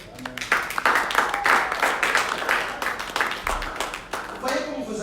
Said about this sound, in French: Vous voyez comment vos acclamations sont faibles là.